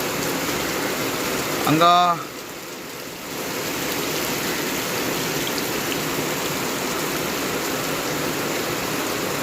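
Rain falls as a steady, even hiss throughout, close and continuous, with a brief voice and a short whistling sweep near the start.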